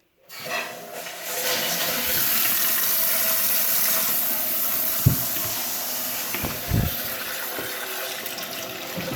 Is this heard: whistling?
no